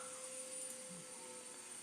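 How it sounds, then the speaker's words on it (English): Household vacuum cleaner running in a nearby room, a steady, faint whirring hum with a thin high whine that holds constant and carries no voices. "Elena just turned the vacuum on, so if you guys can't hear me, let me know."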